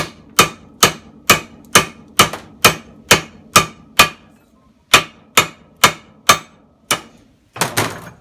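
Heavy hammer blows strike a brass compression olive to split it off copper tube, a steady run of about sixteen sharp metallic knocks at close range with one short pause, no voices.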